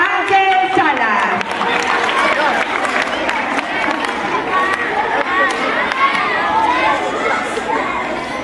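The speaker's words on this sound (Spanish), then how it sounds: "Fuerte los aplausos para Ángel Salas." Applause mixed with crowd chatter and children's shouts fills a school hall after a second-grade pupil is called up at a poetry recitation contest; the clapping and voices are loud and continuous throughout.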